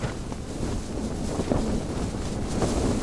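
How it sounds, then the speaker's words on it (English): Wind blowing hard at a winter snow campsite in Glenshee, a continuous loud roaring rush with buffeting gusts battering the microphone, constant throughout with no voices. "and then the wind got up and it stayed up."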